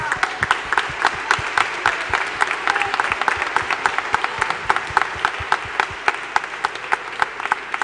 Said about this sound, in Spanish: Hacemos un aplauso a la Virgen.